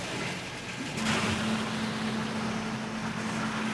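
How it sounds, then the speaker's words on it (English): Wire EDM machine pumps run as the tank fills with fluid, a steady broadband rush like flowing water with a faint sustained low hum that starts about a second in and continues evenly to the end. "turn the pumps back on,"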